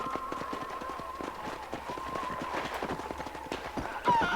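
A horse gallops in Red Dead Redemption, sharp regular hoofbeats thudding in quick rhythm close by, with a faint steady tone underneath and a brief bright chime at the end.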